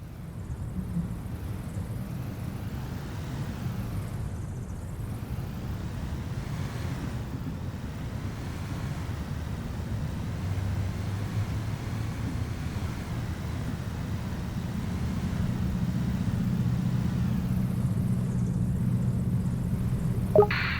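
A baggage tug drives in the Airport Sim video game, giving a steady low engine drone that holds for the whole stretch and swells slightly near the end, with no talking.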